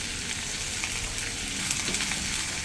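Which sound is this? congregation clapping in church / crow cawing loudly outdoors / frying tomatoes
frying tomatoes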